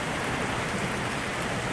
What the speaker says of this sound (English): now there's hail coming down, and it has really cooled off fast